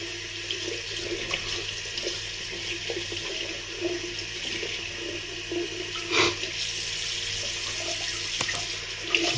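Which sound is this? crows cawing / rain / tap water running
tap water running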